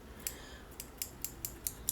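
Mini scissors snip through a string in a quick series of about seven sharp, close clicks spaced roughly a quarter second apart, quiet and alone with no voices.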